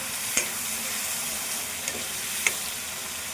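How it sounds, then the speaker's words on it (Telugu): Tomato paste and onion fry in a hot oil tempering for chicken curry, giving a steady close sizzle throughout, with a few light stirring clicks and no talk. "ఈ ఉల్లిపాయతో పాటుగా ఈ టమాటో పేస్ట్ కూడా ఫ్రై కావాలి."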